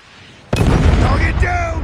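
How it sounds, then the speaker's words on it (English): A predator missile explodes in the video game Call of Duty Mobile, a sudden loud boom that bursts in and then rumbles on briefly, with game voice lines sounding over it. "Friendly predator missile inbound."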